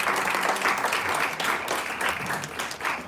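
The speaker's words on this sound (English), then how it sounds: "Give him a round of applause, everybody." Audience applause for a musician at a launch event, steady dense clapping throughout, fairly close and even, with no talk over it.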